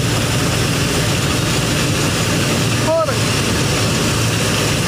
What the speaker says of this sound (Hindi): ट्रैक्टर भी स्टार्ट है